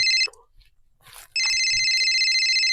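A phone rings with a loud, close electronic ringtone in two bursts, a short one and then a longer sustained one after a brief gap; faint background sounds fill the pause.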